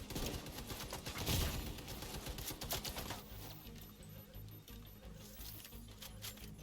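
A fast-firing light machine gun in The Division 2 lets off rapid, clattering bursts with rattling mechanical clicks, loud at first and then easing into quieter, sparser shots.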